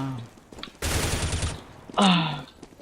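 Gunfire in Counter-Strike: Global Offensive: a loud burst of rapid automatic shots lasts about half a second, followed by a short quieter pause and then a voice that cries out.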